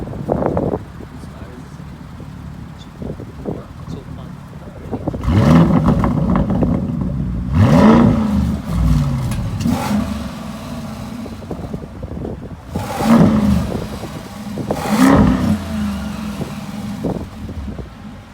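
A Mansory-kitted Lamborghini Urus, a one-of-one build, sends out loud, deep exhaust revs in two pairs of bursts over a steady idle, with wind buffeting the microphone and voices in between.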